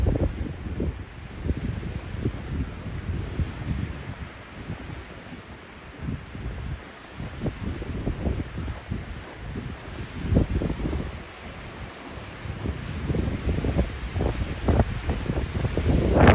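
Gusty wind buffets the microphone on a mountain hike to Dream Lake, a steady rumbling roar with surging gusts throughout, no voices heard.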